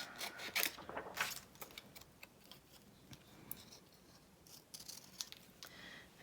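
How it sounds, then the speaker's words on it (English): Big scissors snip through paper scraps in a series of faint, close crisp cuts and rustles, irregular and spaced apart, with no talking. "I'm using the big scissors, so it's a little awkward."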